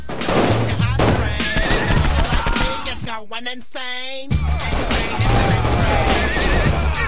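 Rapid video-game gunfire from Saints Row 4, loud bursts packed into a dense, chaotic mix with other game sounds and a brief tonal break in the middle.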